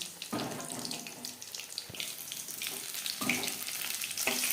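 Tuna fish pakora fries in a pan over a low-to-medium gas flame, a steady close sizzle with two louder bursts as the pieces are flipped over.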